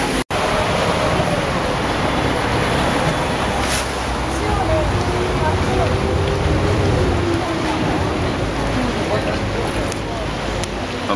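A hired boat motors along the canals of Venice, its engine and water wash forming a steady close rumble and hiss throughout, with people talking over it.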